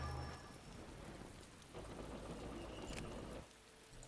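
Steady rain patters with low rumbling thunder in the Empire at War video game, a continuous storm bed that drops slightly in level near the end, no talking.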